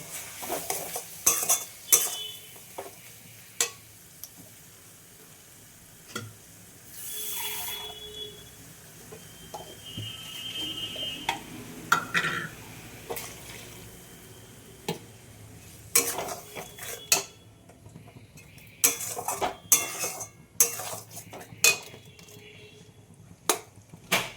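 A paste of ground coriander, cumin and dried red chilli is stirred and sautéed in a pan: sharp spatula clinks and scrapes come at irregular intervals over a faint, low sizzle.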